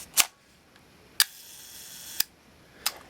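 Minolta Minoltina AL-S 35mm rangefinder camera shutter fired at slow speeds: four crisp, close mechanical clicks spaced roughly a second apart, each a sharp snap with faint mechanism ring between, no voices.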